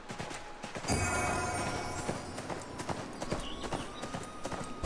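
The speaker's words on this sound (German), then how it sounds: "Ich kann ja mal unser Pferdchen nehmen" Horse hooves clip-clopping as a character rides in the ArcheAge 4.0 video game, a rapid irregular clatter of hoofbeats with game ambience, fairly quiet and continuous.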